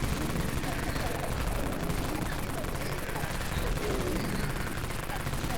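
Dense, continuous machine gun fire in the zombie shooter game Dead Frontier, a steady loud roar of rapid shots with no break across the stretch.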